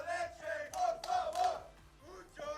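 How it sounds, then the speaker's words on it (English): An auditorium crowd at an Under Night In-Birth II fighting game tournament top 8 roars and cheers in repeated swelling bursts of shouting, loud and full, rising and falling over a couple of seconds. "despite how loud and proud the crowd is"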